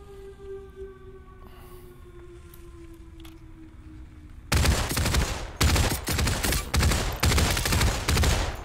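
Gunfire in the VR shooter Population One erupts after a quiet stretch of tonal ambience: a loud, close fusillade of rapid automatic shots in several bursts with brief pauses between them.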